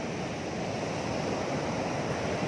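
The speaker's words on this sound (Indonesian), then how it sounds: "Dan kena deburan ombak. Si ombaknya di sini lumayan gede ya." Big ocean waves pound against large boulders on a rocky beach, a loud, continuous roar of surf and spray close by, with no voices.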